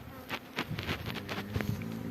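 Honeybees buzz steadily at close range at a hive, a dense hum with individual insects droning louder as they pass near, no voices.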